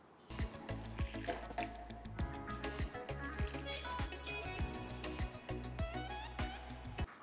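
Wheat dough being kneaded by hand with oil, salt and water, producing a quick, rhythmic series of wet squishes and slaps that are close and fairly clear.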